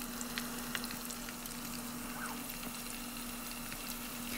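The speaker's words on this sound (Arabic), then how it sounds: "غير كيسخن الزيت وكطلع هاد البقبقه غنخلي لكم الصوت ديالها تسمعوه" Hot oil bubbling and sizzling in a pan on a gas burner while herb-infused oil is fried, a steady dense crackle with scattered sharp pops, close and alone with no voices.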